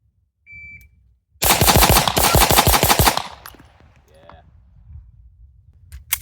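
Rapid pistol fire from a competition handgun such as an MPA DS9 open comp, Staccato XC or MAC 9 DS-D comp: a fast, loud, nearly continuous string of close shots for under two seconds, followed by quieter range clatter.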